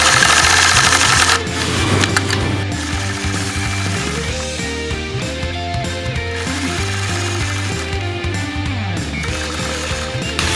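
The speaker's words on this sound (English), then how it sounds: "I'm going to stitch point to point curves" A quilting machine runs steadily for about ten seconds, stitching point-to-point scallop curves along a pineapple quilt block with a ruler. A loud, close mechanical drone with a rapid needle rhythm shifts slightly in speed.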